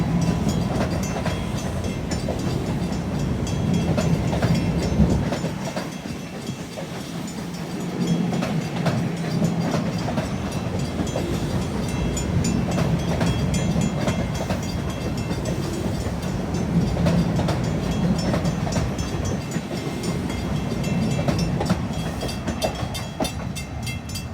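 A Long Island Rail Road train rolls past at Bethpage, loud and close, a continuous heavy rumble with rhythmic clatter of wheels over rail joints lasting throughout, swelling slightly as it passes.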